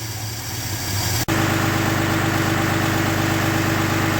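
An old green machine's engine, just back running after repair, idles steadily and loudly up close, with a short cut-out before the even, vibrating drone resumes. No talking.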